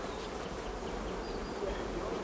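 Honey bees buzz around their hives in a steady, faint drone that holds at an even level throughout, with no talking.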